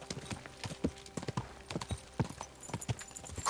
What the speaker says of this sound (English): let's summon the horse